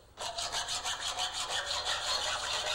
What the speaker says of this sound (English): That sounds like sawing.